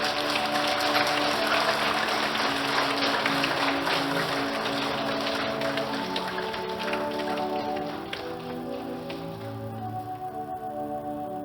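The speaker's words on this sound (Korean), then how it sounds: "박수 부탁드리겠습니다" A congregation at a Catholic Sunday Mass in Korea applauds during a farewell for a nun. The clapping is dense and sustained, like a crowd of hands, and tapers off toward the end while a tonal sound carries on underneath.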